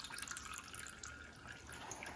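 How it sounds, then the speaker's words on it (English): Homemade doburoku, a rustic rice sake made with koji and yeast, dripping through a filter bag, a faint steady trickle of drips and liquid splashing heard close and quietly throughout. "poured into the filter bag very well. And it's dripping out already."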